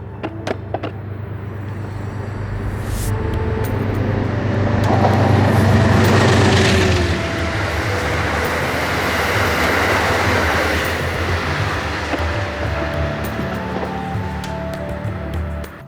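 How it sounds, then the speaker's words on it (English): A train rolls past close by, a continuous heavy rumble and rattle of wheels that swells to a peak midway and slowly fades, heard alone without speech. "there is a train coming"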